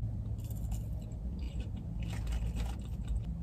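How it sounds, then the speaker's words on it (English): Close, crisp crunching as someone bites into crispy Arby's crinkle-cut fries, several quick crackly bites and chews over a low background hum, with no talking. "I'm sure you guys can hear that crunch when I bite into it too."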